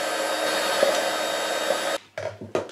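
A hair dryer blows steadily at close range to set hot glue on a homemade illuminated hanging planter covered in veneer fabric, then cuts off and gives a few short bursts.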